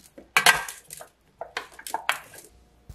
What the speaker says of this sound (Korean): 먼저 소금 2꼬집 넣어 섞어주세요.